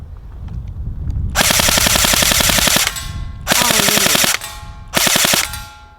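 Bursts of full-auto fire from an airsoft gun, three long rapid-rattling strings of close, sharp, loud shots separated by short pauses.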